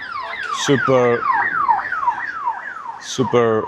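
An ambulance siren sounds in traffic, a loud, close electronic yelp sweeping rapidly up and down in repeated cycles, with short horn-like honks cutting in twice and no talking over it.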